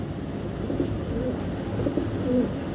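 Young club racer pigeons give a few short, low cooing calls close by over a steady background hum.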